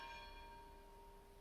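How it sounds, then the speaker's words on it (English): A college church bell in Rome rings steadily with a sustained, humming tone and shimmering overtones, moderately distant and fairly faint, with no voices over it. "because the college bell will ring"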